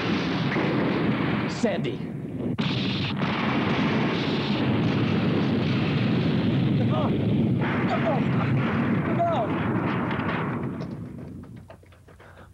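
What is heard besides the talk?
gunfire from a TV show battle scene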